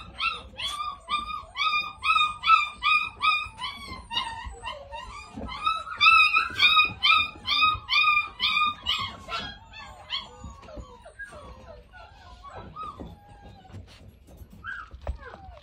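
Dog whimpering and whining beside its food bowl in a rapid series of high, pitched yelps and moans, loud at first, then trailing off into fainter, sparser whines.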